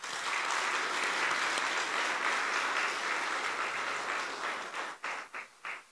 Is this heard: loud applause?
yes